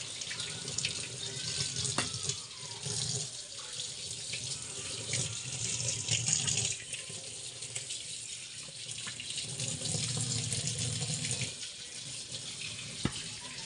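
Running tap water splashes into a sink as fish are washed by hand, a continuous rushing stream that swells and eases as the flow is disturbed, close and steady, with no talk.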